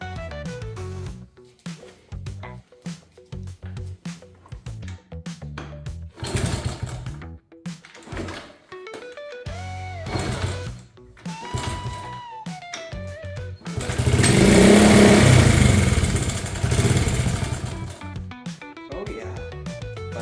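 A 1971 Honda CT70 motorcycle engine, revived after years of sitting, is cranked and fires into a loud, rough, broadband burst of running for a few seconds near the end, after a stretch of someone talking.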